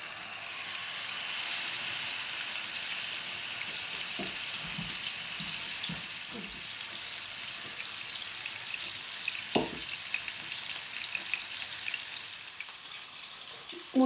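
Mrigal fish frying in hot oil gives a steady, soft sizzle, joined by a few faint clinks and taps, with no talking.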